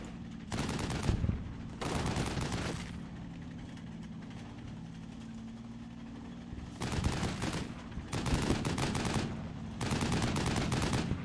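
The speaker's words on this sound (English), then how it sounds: "Now we got a 50 caliber machine gun on him." Bursts of .50 caliber machine gun fire in the PC war game Combat Mission Normandy, several long rattling volleys separated by quieter gaps, loud and close, with no voices.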